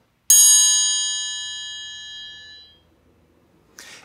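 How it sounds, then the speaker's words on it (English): A homemade triangle made from a metal water bottle or glass, struck once with a beater, rings out with a bright metallic tone that slowly decays over a few seconds before a faint rustle. "hold the triangle beater, and tap it on the side of the triangle to make the ringing sound"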